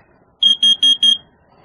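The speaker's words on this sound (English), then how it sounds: "I just changed the batteries on my smoke detector." A smoke detector being tested after a battery change sounds four loud, high-pitched beeps in a quick, even sequence, then falls silent.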